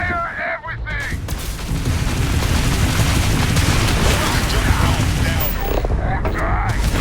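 Sustained barrage of spaceship weapons firing during a space battle in Starfield, a dense, loud rumble of booms and blasts running almost continuously, with a brief voice at the start.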